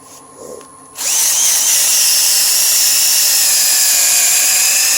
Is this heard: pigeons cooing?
no